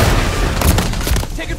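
Call of Duty battlefield gunfire, a dense continuous barrage of shots and booms across the whole stretch, with voices shouting over the din.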